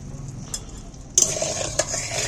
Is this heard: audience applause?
no